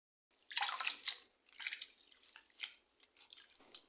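Leafy vegetable leaves being rinsed in water during kitchen prep: faint, irregular splashes and drips with soft watery swishes, close by, in short bursts separated by quieter moments and no talking.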